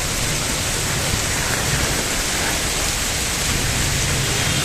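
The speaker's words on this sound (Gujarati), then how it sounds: "હજી તો વરસાદ વધી રહ્યો છે. ઘટવાને બદલે વરસાદ વધી રહ્યો છે." Loud, continuous heavy rain roars in an even wash of noise as vehicles keep moving through the downpour amid strong wind, with no talking.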